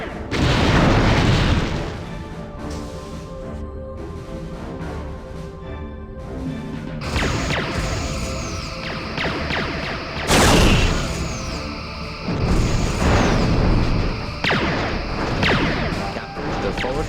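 Dummy Mark IV torpedo casings fire at one-thousandth power in a Star Trek: Bridge Commander combat simulation, with several loud booms and crashing explosions over a steady ship hum and scattered tones.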